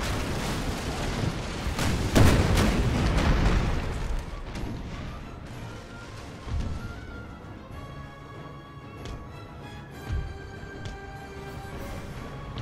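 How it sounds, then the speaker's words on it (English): Cannon fire in Napoleon: Total War naval battle, a couple of deep booming shots early on, then a lower rumble and ringing tones trailing off with scattered thuds. "Fired 2 pitiful cannon shots at us."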